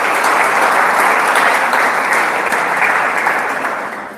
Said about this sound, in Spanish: Si quieres puedes celebrar eso con un aplauso.